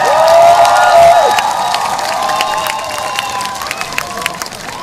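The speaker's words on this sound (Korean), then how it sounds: "박수." A large crowd at an outdoor election campaign rally in Uijeongbu, South Korea, claps and cheers loudly, the applause steady at first and slowly thinning out, with a long whistle-like tone near the start.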